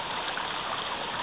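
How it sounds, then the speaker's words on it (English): A full mountain stream rushes steadily in the Adirondacks, a loud, continuous broadband wash of water close by, with no voices over it. "This stream is running pretty full here for compared to what it was the last time. It's making a lot of noise."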